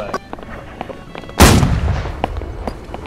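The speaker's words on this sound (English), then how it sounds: "Right side cannons!" A heavy ship cannon fires in the naval video game Holdfast: Nations at War, one loud deep boom with a long rumbling tail, set against sharp scattered distant shots and clanks.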